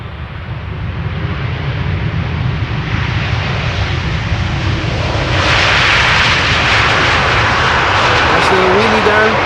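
Jet aircraft on the runway at Amsterdam Schiphol Airport, a loud, sustained engine roar and rumble that swells and brightens toward the end, with a voice talking over it.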